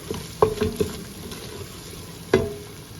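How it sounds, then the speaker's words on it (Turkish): Onions and tomato paste frying in a pan, a steady gentle sizzle broken by a few sharper scraping stirs and clinks from a utensil, heard up close. "soğanımı kavurdum, salçamı da koydum güzelce kavrulsun"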